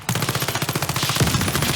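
Rapid, continuous automatic gunfire from Battlefield 1, close and loud, a steady rattle of shots with no pause.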